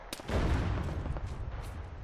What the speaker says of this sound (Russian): это танк накрывает. Танк шьет.